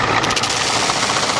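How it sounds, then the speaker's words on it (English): A Ford truck engine runs steadily with a rough, continuous mechanical rubbing under the hood, loud and close for the whole moment, with no talk. "Sounds like something's rubbing under the hood."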